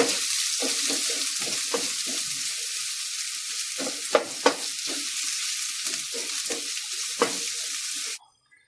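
Green chili, dried chili and garlic sautéing in a pan, a loud close sizzle with repeated rhythmic stirring scrapes and a few sharp clinks before it cuts off abruptly.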